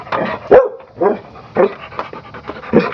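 A dog pants in a garage, with quick breathy bursts in a steady rhythm, close and fairly loud, with no talking.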